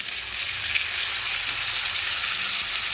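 Spice pastes with tomato, green chilies, ginger, cumin and onion frying in a pan for Bengali fish curry, a dense, even, loud sizzle holding steady throughout without voices.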